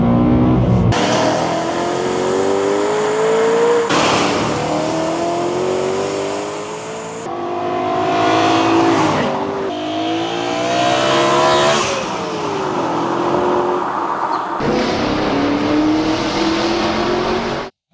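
BMW M3 V8 engine pulling at full throttle, with loud, close revs climbing through several gears, brief dips at each shift, and a sudden cut at the end.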